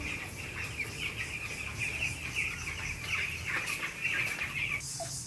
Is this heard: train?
no